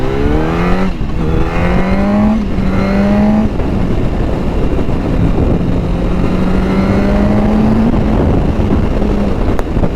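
2007 Yamaha R1 motorcycle being ridden, engine revving up through several gear changes with rising whines and brief drops, loud and close for the whole stretch without talk.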